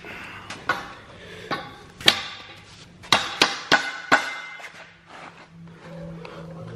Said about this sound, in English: Let me get us a rubber hammer.